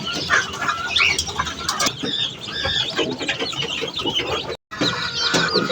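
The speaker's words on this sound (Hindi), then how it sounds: "ये दाना डाल रहे मुर्गियों को" Chickens cluck and squawk busily inside a cage as grain is scattered for them, with bursts of wing flapping among the close, overlapping calls.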